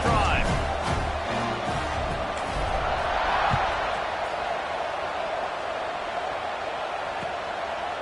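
A football stadium crowd in a Washington vs Tennessee game roars after a touchdown drive, a loud sustained wash of cheering that eases slightly, with a voice talking over it at the start.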